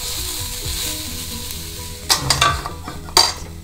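Broad beans (avaraikkai) cook in a pan with a steady sizzle, then a spoon stirs them in a few quick scraping clatters near the end.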